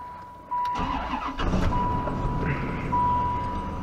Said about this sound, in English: The next thing you do is you start the car.